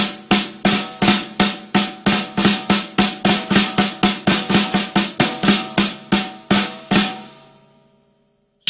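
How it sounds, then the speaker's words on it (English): A drummer plays the Patty Fla-Fla rudiment, two flams and two single strokes, as a fast even stream of sharp drum hits repeating for about seven seconds, close and alone, then ringing out into silence. "It's a stroke called the Patty Fla-Fla."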